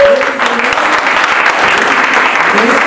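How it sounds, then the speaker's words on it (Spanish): A church congregation claps together in a steady, dense burst of applause during a sermon, loud and sustained for a few seconds, with a brief tone and faint voice at the start. "Le van a aplaudir, apláudanle bien"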